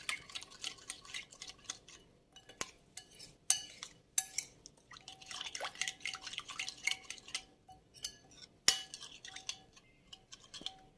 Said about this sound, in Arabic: اخلط المكونات مع بعضها.